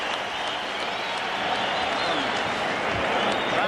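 Boxing arena crowd applauding and cheering at the close of a round in a WBO junior featherweight title bout, a dense steady roar of clapping with talk mixed in throughout.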